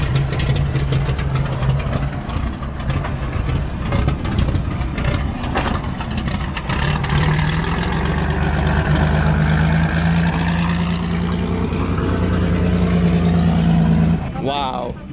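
A big vintage La France race car engine idles loudly and steadily in a paddock area at the Nürburgring, a deep continuous rumble with some revving, under the chatter of people nearby.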